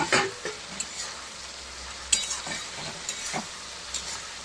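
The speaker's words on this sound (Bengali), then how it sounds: "এবার আমি মাছ দিয়ে একটু কষিয়ে নেব, মাছগুলো দিয়ে দিলাম।" Fish pieces sizzle in spiced oil in a pan, a steady low frying hiss broken by several sharp spatters and scraping stirs, close and fairly quiet with no talking.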